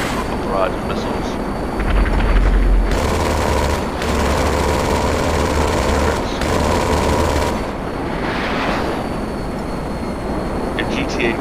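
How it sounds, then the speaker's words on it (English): A loud rapid barrage of missile fire from a plane in GTA Online, in bursts launching in quick succession, over a roaring engine, then easing into a steady drone. "It's a sound of this missile."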